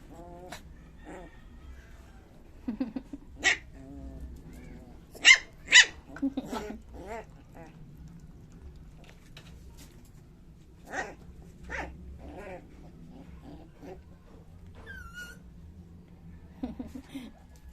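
A dog barks in sharp, scattered bursts, several loud yaps clustered in the middle, over a quiet room with faint hum and a few soft voices.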